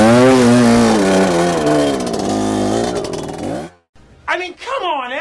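A Fantic two-stroke twin-shock trials motorcycle pulling in third gear, its loud close engine droning with shifting revs for several seconds before cutting out, then rising again briefly.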